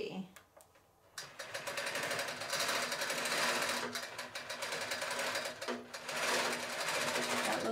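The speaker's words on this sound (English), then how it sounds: "gonna just do a little test, make sure everything's okay with the tension and it's stitching properly" A quilting sewing machine stitches a short test run, starting after a brief pause and then holding a loud, fast, steady mechanical chatter with small changes in pace.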